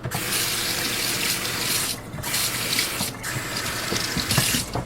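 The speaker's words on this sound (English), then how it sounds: "So first thing I want to do is to wash it first. And we'll probably wash the board as well to make sure it's clean." Tap water runs steadily into a kitchen sink as a ceramic-coated stainless steel santoku knife and a cutting board are rinsed, a loud continuous splash broken by two brief pauses where items pass under the stream.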